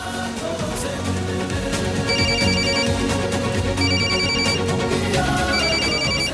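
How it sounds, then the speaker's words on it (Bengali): A phone ringtone rings in repeated bursts of bright electronic tones, steady and clear over a busy background of music or noise. "ছাবড়া বারবার ফোন করছে"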